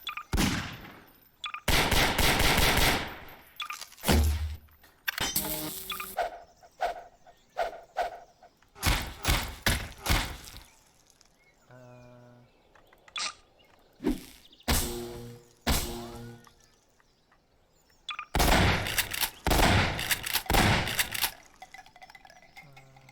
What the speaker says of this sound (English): Makes weapons sound better in a way.